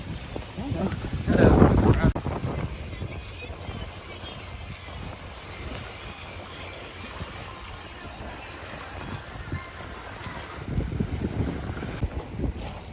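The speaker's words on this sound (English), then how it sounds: "It's kind of windy." Steady wind rumble and buffeting against the microphone outdoors by a lake, with louder gusts near the start and end and faint voices underneath.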